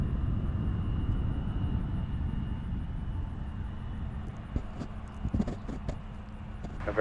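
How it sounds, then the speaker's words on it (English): An Endeavor CRJ-900 regional jet rolls for departure on runway 36 right at Cincinnati, a low, steady rumbling roar heard from a distance that dominates throughout, with scattered clicks and knocks nearby in the later seconds. "looks like we'll have an Endeavor CRJ 900 departure in front of us here on runway 36 right"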